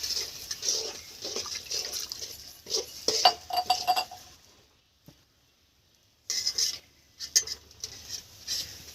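Metal spoon scraping and clinking against a pan while mashed potatoes and vegetables are stirred into pav bhaji, in bursts of busy clatter with a short silent pause in the middle.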